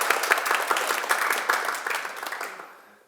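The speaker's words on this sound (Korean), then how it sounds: "여러분께 먼저 박수 올리겠습니다." Audience applause at a Sunday Buddhist dharma talk, a steady patter of many hands filling the room before tapering off toward the end.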